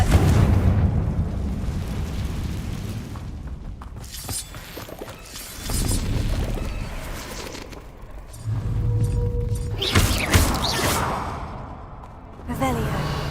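Confringo fire spell blasts in Hogwarts Legacy, several loud booming explosions with crackling bursts and whooshes, spaced through the stretch with quieter gaps between them.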